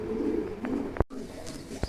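A domestic pigeon gives low, soft cooing close by, a rumbling murmur with a couple of brief knocks or clicks in between.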